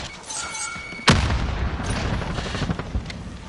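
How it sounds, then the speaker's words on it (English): Grenade explosion in a video game, a single sharp loud blast followed by rumbling debris and scattered distant gunfire-like pops. "Throwing grenade!"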